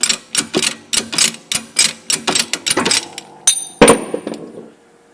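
A 2008 Hyundai Accent wheel bearing flange is pressed off its hub with a quick series of sharp mechanical clacks, ending in a louder metallic snap before the noise fades out.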